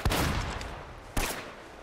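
Shotgun blasts in the video game Uncharted: Drake's Fortune, two loud, close booming shots about a second apart, each with a ringing tail.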